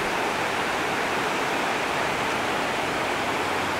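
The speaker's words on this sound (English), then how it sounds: "Chilliwack River at the Tamihi Rapids. The river's up really high now, it's spring runoff." The Chilliwack River runs high with spring runoff through the Tamihi Rapids, a steady, loud, unbroken rush of whitewater with no pauses and no voices.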